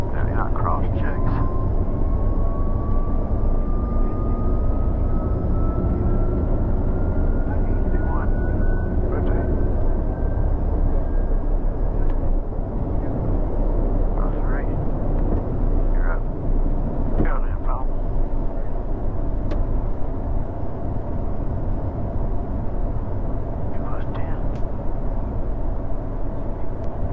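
A Cessna Citation M2 business jet takes off, its engine roar a loud, steady rumble throughout with a rising whine early on, while a cockpit voice talks over it.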